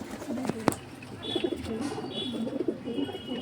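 Pet pigeons of Telangana and fancy breeds cooing close by in soft repeated throaty rolls, with a couple of sharp clicks early on and faint chirps in the background.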